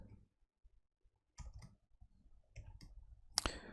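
A computer keyboard in a Linux terminal session gives a few faint, sparse key clicks, quiet and close, ending with one sharper click.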